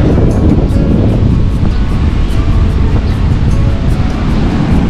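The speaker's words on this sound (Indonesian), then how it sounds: "Nah, ombaknya gede juga nih." Large ocean waves crash and roll in a loud, continuous roar on a Sumatran coast, with gusts of wind buffeting the microphone throughout and no voices.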